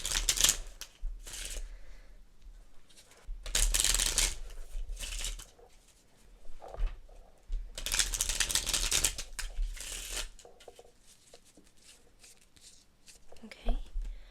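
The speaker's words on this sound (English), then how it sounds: "Okay, let me deal our cards" Playing cards shuffled by candlelight in a dim room during a power outage, bursts of crisp riffling and rustling that come and go in several rounds, with people talking quietly around them.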